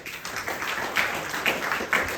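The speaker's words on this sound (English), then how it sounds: "So give yourselves a big round of applause." Applause from a gathered audience at a Hindu yagna ceremony, with a steady, dense patter of many hands clapping and small surges, and faint voices mixed underneath.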